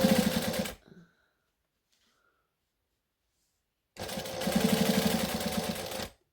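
A domestic sewing machine quilting a table runner runs in two loud, rapid bursts, a short one at the start and a longer one near the end, with near silence between them.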